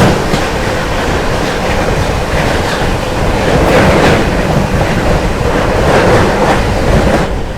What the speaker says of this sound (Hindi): भाई गाड़ी देखो क्या गजब की भाग रही है अपनी